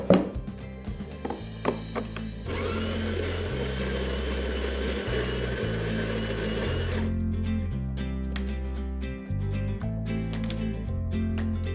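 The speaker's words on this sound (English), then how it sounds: "We will have to make a few more grinds until we get the desired fineness." A De'Longhi La Specialista EC 9335.M espresso machine's built-in grinder grinds coffee beans in one sustained, steady mechanical whir of several seconds, close and fairly loud, with clicks and knocks before and after.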